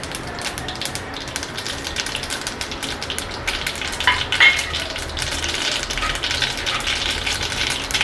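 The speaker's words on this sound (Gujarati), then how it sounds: "હવે આપણે બે ચમચી જેટલા તલ નાખીશું" Continuous loud crackling and sizzling of sesame seeds frying in hot oil with mustard seeds, a dense spattering texture with a sharper pop partway through.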